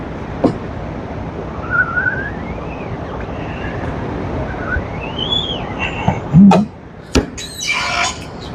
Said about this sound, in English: Same 2-second stroke, just enough pressure to get a whistle.